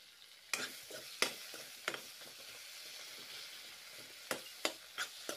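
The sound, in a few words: frying and stirring tomatoes with a spatula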